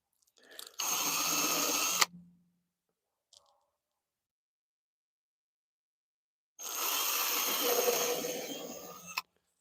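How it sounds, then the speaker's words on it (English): A power drill whirs through wood in two steady bursts of over a second each, separated by a quiet pause with a faint click. "Super important to pre-drill. If you do not do this, your wood will split."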